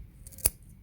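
A pair of scissors snips a plant with one sharp, close cut, a brief crisp metallic clip against near silence.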